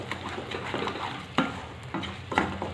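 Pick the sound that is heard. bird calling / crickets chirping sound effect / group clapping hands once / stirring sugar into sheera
stirring sugar into sheera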